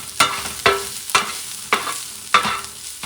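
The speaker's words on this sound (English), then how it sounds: "I'm going to add the garlic. And I'm going to mix it up for about a minute" Garlic frying in a pan for a wild boar rice picadillo, sizzling steadily while a utensil scrapes through it in five or six sharp, regular strokes, close and clear with no talking.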